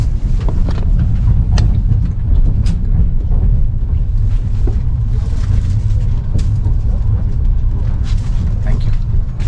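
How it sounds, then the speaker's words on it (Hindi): Night train from Almaty to Shymkent creeping along at low speed, a steady loud low rumble and rattle of the carriage running continuously throughout, with a voice talking over it. "सुबह के 3-4 बजे तक ट्रेन अच्छी स्पीड में गई, उसके बाद एकदम धीरे धीरे बैलगाड़ी की तरह चल रही है।"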